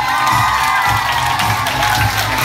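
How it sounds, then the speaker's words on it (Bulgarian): Audience at a ceremony announcing winners, part of a production and wedding event, breaks into loud, dense applause and cheering that fills the whole stretch without a break. "Томайз Екиев, аплодисменти"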